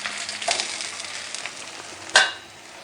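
Makai roti frying in desi ghee on a hot pan, a close, steady crackling sizzle with a sharp clatter near the end, no voices.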